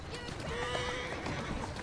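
A horse in Assassin's Creed Syndicate gives a brief neigh amid quiet hoof clip-clops, faint and short.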